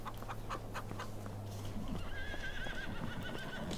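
Horses in Farming Simulator 25 whinny and neigh up close, with clip-clopping hooves and a low steady hum underneath, and a higher warbling whinny rising near the end.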